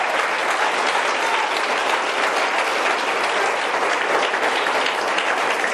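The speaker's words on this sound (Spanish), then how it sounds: "¿Cuánto dan palmas de alabanza al que vive," A church congregation applauds in praise, a dense, steady wash of many hands clapping at full volume for several seconds with no voices standing out.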